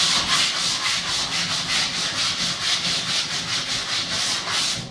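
Steady back-and-forth rubbing of 100-grit sandpaper on wood while shaping a sled, a rhythmic, close, continuous scratchy hiss in regular strokes with no talking.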